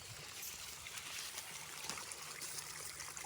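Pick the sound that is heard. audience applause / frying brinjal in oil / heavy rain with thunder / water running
water running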